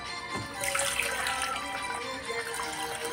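Tap water running steadily into a basin at home, a continuous soft rushing splash with no talking over it.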